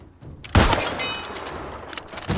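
A gunshot rings out in the video game New World as a sharp, loud crack, trailed by a short noisy tail of game sound effects.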